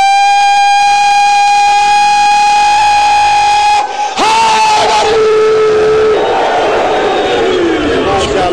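A large Shia crowd at a 2012 religious gathering in Multan chants slogans together, loud and amplified. A drawn-out, siren-like voiced call gives way to a dense, roaring group response that keeps going.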